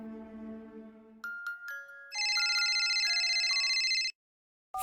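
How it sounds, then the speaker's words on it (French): A phone rings in The Last of Us Part 1 video game with a stepped melodic ringtone, then a sustained chiming tone sequence, a silent gap and one more short chime. "elle est réveillée un peu plus tard par un coup de téléphone de son oncle"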